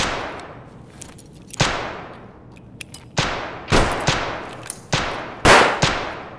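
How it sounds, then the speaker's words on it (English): Sharp bursts of gunfire and a flashbang blast in the video game Escape from Tarkov: about eight loud, separate bangs in an irregular rhythm, some close and punchy, a few more distant, over a quiet room tone. "Okay, I'm about to throw my flashbang,"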